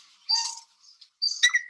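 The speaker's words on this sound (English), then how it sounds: "And that doesn't sound like a jay's call at all." A black-chested jay calls in the Colombian Andes, giving two bright, chattering bursts separated by a short pause. The calls are fairly close and clear, with no talking.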